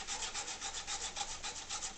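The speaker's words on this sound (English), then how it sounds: "the lathe can be used as a very, very good mount for sanding" Steady rhythmic rubbing of abrasive on spinning wood on a lathe, shaping a pipe stem, a continuous gritty hiss with regular pulses, close and fairly quiet, no voices.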